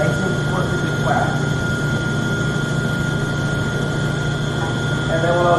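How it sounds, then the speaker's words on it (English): A Shovelhead engine case being lapped flat gives a steady, continuous abrasive rubbing and droning hum that holds at an even loudness throughout, with no pauses or breaks. "So that's what we're doing here, just lapping this case out."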